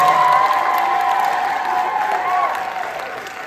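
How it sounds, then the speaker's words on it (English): A school talent show audience gives sustained applause with scattered cheering, a dense, loud wash of clapping from a large crowd that holds steady and fades slightly at the end. "A giant round of applause for everybody who performed up here for tonight."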